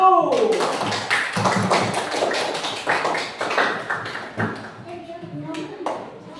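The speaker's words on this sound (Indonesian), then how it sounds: "kita beri aplaus untuk kelompok 1." Classroom applause for the first presentation group, a burst of many hands clapping close by that swells and then thins out over several seconds, with a few voices mixed in.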